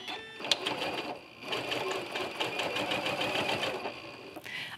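A sewing machine stitches a walking foot curve through a quilt, a steady fast mechanical whir with rapid needle ticking that runs close and loud for several seconds before stopping.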